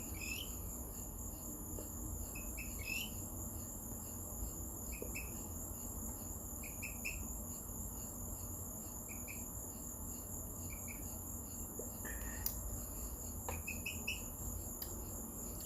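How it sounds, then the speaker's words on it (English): A small green frog calling at night, short repeated high chirping croaks at irregular intervals over a dense, steady chorus of crickets and insects. "Frog, in case y'all are wondering."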